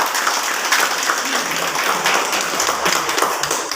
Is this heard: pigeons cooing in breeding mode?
no